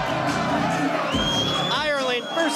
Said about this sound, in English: So a massive crowd here at Rebellion 28.